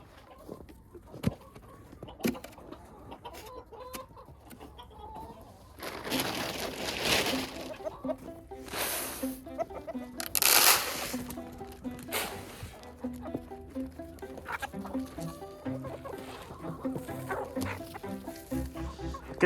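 Backyard hens and a young rooster cluck and squawk at close range while being fed outdoors, with scattered pecking, rustling and crunching of feed, and a few loud bursts of clucking rising over the steady farmyard activity.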